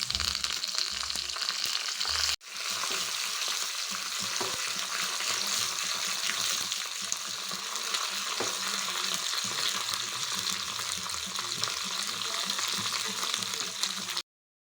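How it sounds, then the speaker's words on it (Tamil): Mustard seeds, cumin, pepper and curry leaves sizzle steadily in hot oil, a loud, even frying hiss after a brief clatter at the start, with no voices over it. "இதில் கொஞ்சம் கடுகு போட்டுக்கலாம் கொஞ்சமாக ஜீரகம் மிளகு போட்டிருக்கேன்"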